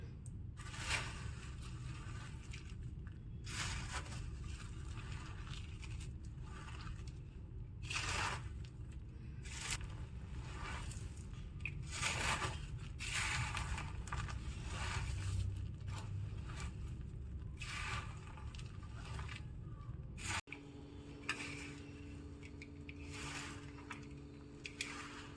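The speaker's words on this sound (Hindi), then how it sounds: "अब हम इनको सबको हाथों की सहायता से मिक्स कर लेते हैं।" Roasted ingredients for ginger and jaggery laddoos are mixed by hand in a wide pan, making soft continuous scraping and crunching rustles with repeated bursts of friction, close up and quiet, with no talk.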